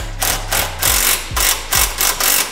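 A ratchet wrench retightens the battery hold-down bolt on a Volvo, giving a close, loud series of quick clicking strokes in an even back-and-forth rhythm.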